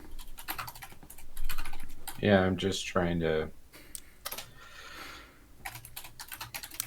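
Rapid clicking of keys on a computer keyboard, close and fairly quiet, running through most of the stretch while someone briefly talks over it.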